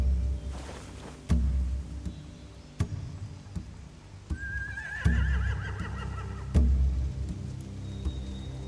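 A horse whinnies once in the middle of a Walking Dead video game scene, a wavering neigh over a quiet rumbling backdrop punctuated by regular sharp thuds, with no talking.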